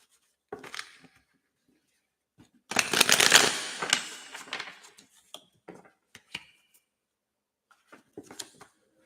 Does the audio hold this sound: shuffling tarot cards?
yes